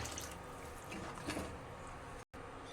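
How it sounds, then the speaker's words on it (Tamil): Water splashes steadily into a pot of curry base of stirred tomato and ground paste, a continuous close pouring wash that cuts off briefly near the end. "தண்ணி சேர்க்கணும்"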